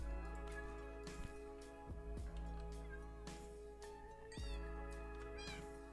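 Baby cat in Minecraft meowing several times in short, high mewing bursts over a steady bed of game music, with no talk.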